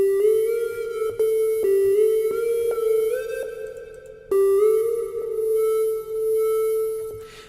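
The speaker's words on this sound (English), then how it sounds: "to get a more traditional laser sound" A soft synthesized trap laser zap from Reason 7 repeats several times, each pure tone sliding in pitch, clean and close with short pauses between.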